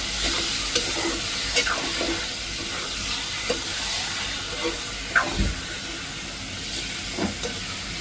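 Liver fries with onions in hot oil, giving a constant loud sizzle and hiss. Irregular scrapes and clacks from stirring break through it over several seconds.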